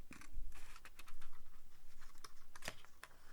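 Large arthritis-friendly scissors snip through paper for an envelope stack craft, a close, quiet series of crisp cutting clicks and rustles in an irregular rhythm.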